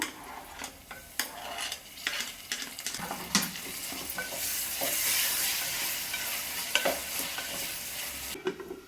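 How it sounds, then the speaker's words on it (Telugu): Chopped tomatoes sizzle in hot oil as a spoon stirs and scrapes the pan while pulao is being cooked, with steady frying noise and sharp, irregular clinks of the utensil against the metal, close up and with nobody talking. "ఇప్పుడు ఇదే టైంలోనే కట్ చేసుకుని టమాటీలను కూడా వేసుకుంటున్నాను"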